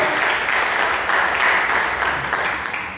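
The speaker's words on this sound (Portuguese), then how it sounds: "Vamos aplaudir o Senhor." Steady applause from a church congregation, a dense wash of clapping that holds evenly for a few seconds.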